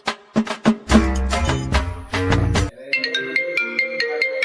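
A mobile phone ringtone plays a bright, melodic tune close and loud, alone with no voices, shifting to a higher repeating pattern near the end.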